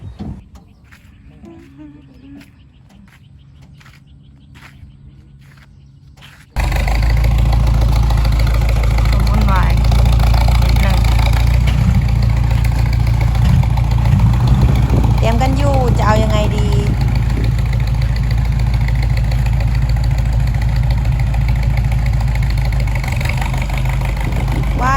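A vehicle engine idles steadily while its throttle cable is being fixed, starting after a few quiet seconds and then holding a loud, constant low rumble as someone talks over it.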